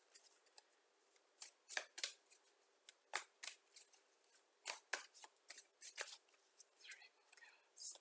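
Tarot cards shuffled in quick bursts of crisp riffling and slapping, a dozen or so short rustles at irregular intervals, close and fairly quiet.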